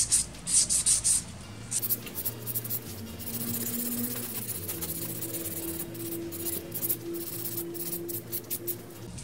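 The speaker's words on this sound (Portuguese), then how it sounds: "Já posso finalizar com uma lixa boca." A nail file rubs back and forth over a gel fingernail, close up, as soft continuous scratchy strokes over a low steady hum, with a few short higher bursts at the start.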